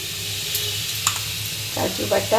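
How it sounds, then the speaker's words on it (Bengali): Cashew paste going into paneer frying in a pan, a soft continuous sizzle with a few wet squishing and stirring scrapes toward the end, heard close under a faint background hum. "এখন এটার মধ্যে দিচ্ছি কাজু বাটা"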